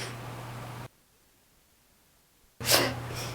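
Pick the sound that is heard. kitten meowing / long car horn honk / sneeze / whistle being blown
sneeze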